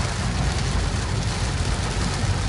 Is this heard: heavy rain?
yes